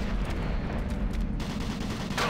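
Rocket launcher fire against a turret in Doom 3, a dense, continuous barrage of booming blasts and explosions rumbling throughout with no pause, loud and close.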